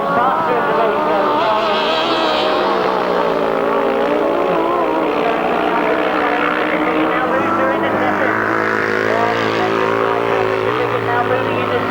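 Motorcycles race on a 1992 grasstrack, a loud continuous engine whine and drone with shifting pitch as bikes pass, heard under constant race commentary.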